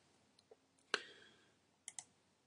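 Quiet computer mouse clicks land on an on-screen button: one sharp click near the middle and a quick double click toward the end, with a few softer ticks earlier, all close and alone.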